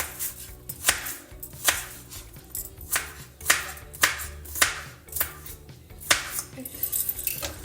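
A large onion being chopped with a knife on a board, a dozen or so sharp, close, evenly spaced thuds with a faint metallic edge, heard alone.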